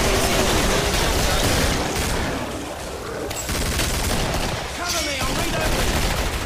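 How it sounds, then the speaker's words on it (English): Rapid gunfire from the co-op zombie shooter Killing Floor, loud and dense bursts of shots with booming impacts throughout, a voice talking intermittently underneath. "Gotta shoot him in the face."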